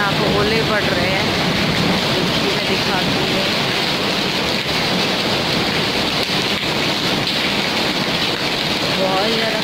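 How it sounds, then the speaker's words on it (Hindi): Heavy rain mixed with falling hail gives a dense, constant roar of drops and pellets striking surfaces outdoors on a cold day, loud and unbroken throughout. "आज इतनी सारी रेन हो रही है और साथ में यहाँ भी देखिए ओले पड़ रहे हैं"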